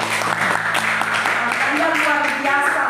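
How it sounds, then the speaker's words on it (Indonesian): Students in a classroom clap together in a steady burst of applause while a voice speaks over it. "tepuk tangan untuk semua"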